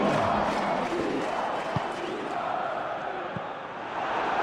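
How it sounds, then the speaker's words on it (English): A football stadium crowd applauds a substituted player, producing a dense, sustained roar of massed noise that holds at a steady level throughout, with a faint voice underneath. "it's good to see that the crowd appreciate his efforts"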